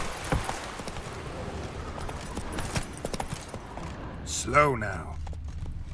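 Roach, a horse in The Witcher 3, runs with a steady clip-clop of hooves on the ground under a voice, and a short whinny rises near the end.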